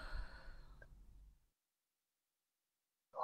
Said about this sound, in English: Somebody was breathing in my right ear.